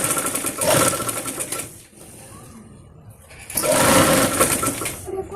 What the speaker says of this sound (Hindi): इस तरीके से राउंड में पलटते हुए हम इसको सिलाई लगाते जाएंगे।